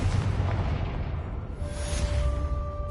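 A Confringo spell explosion in a Hogwarts video game, a deep rumbling blast that swells and rolls on for a few seconds, followed by a faint ringing magical tone.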